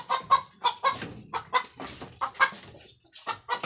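Chickens clucking close by in a busy, irregular series of sharp, bright calls, with no talking.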